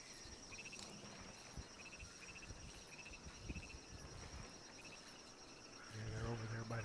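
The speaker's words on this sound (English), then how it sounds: "Is anyone else hearing a bunch of fucking frogs?" A faint, steady chorus of frogs croaking by a river in the video game Ghost Recon Wildlands, a distant pulsing chirr that carries on evenly throughout, with a low rumble joining near the end.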